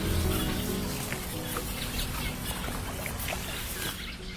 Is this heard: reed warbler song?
yes